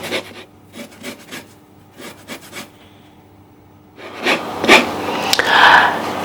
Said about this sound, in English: once I've taken all the zest off it, I'm going to use the back of a knife to slide against the grater